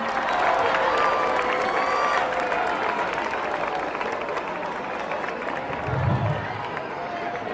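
An audience at a school spiritual gathering in Udaipur applauds to welcome an arriving guest, a dense, steady wash of clapping and crowd noise throughout, with talk and chatter mixed in.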